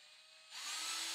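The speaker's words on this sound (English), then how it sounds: "I just ran the drill" A power drill runs on a custom guitar build in a luthier's workshop, cutting in partway through with a loud, steady, high whine over a quieter hum and continuing without pause.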